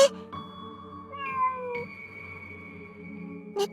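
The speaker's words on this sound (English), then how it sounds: "猫さん、お腹減ってるの？" A cat meows several times near a railway track at night, with a long, wavering mew in the middle and a sharper cry near the end, over a faint low background hum.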